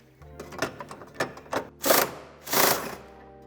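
A ratchet working screws loose on a 2018–2022 Ford Tourneo Connect, a run of quick rhythmic mechanical clicks followed by two longer, louder ratcheting bursts, close and without talking.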